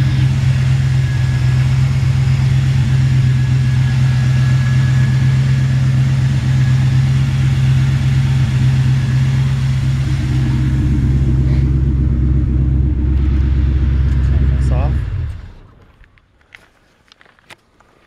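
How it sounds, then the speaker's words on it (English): A 1956 Ford F-100 pickup with a freshly built 350 V8, Edelbrock intake and Holley double pumper carburetor, idles with a steady, loud low rumble for about fifteen seconds before the engine shuts off and goes quiet. "freshly built 350 V8. Nice looking little engine dress kit on there with a Edelbrock intake and Holley double pumper carb."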